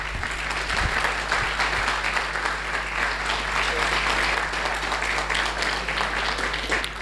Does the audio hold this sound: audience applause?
yes